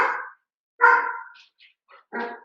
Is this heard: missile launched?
no